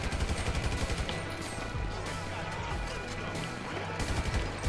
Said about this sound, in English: All right, fired it. That was the warning shot.